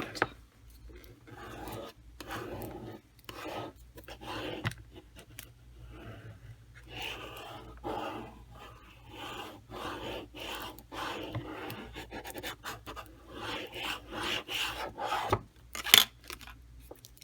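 Hand sawing through scrap wood for a homemade sign, with repeated rasping strokes in steady bursts, fairly close but moderate in level.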